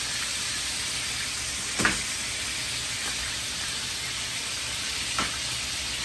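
Grass-fed butter sizzles in a hot pan alongside a medium-rare steak, a steady broad frying hiss with two brief sharper pops and no talking.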